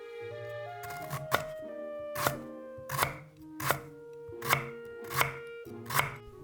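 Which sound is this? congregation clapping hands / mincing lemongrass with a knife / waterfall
mincing lemongrass with a knife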